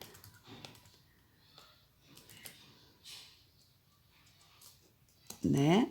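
Someone clacks scattered keystrokes on a computer keyboard at an irregular pace, with a voice speaking under the taps and a short louder burst near the end.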